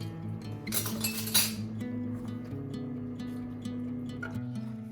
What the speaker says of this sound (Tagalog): And let's not forget to mix the coconut milk.